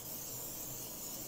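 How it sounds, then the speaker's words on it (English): Canola oil cooking spray is misted over raw chicken wings before air frying, giving a faint, steady hiss for about a second. "I'm going to spray them first."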